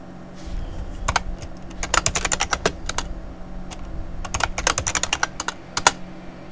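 Typing on a computer keyboard while searching file folders: two close bursts of rapid, crisp key clicks separated by a short pause, with no speech.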